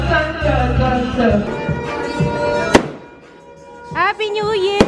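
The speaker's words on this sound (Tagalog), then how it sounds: "Asa sa fireworks ng kapitbahay." New Year fireworks set off by neighbours crackle and pop amid steady background music, with a sharp burst near the middle and a flurry of crackles toward the end, while people talk nearby.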